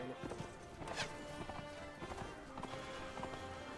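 Rapid clip-clopping hooves of a galloping horse in the video game Mount & Blade: Warband, steady and close, with a brief whinny layered over a busy game soundscape.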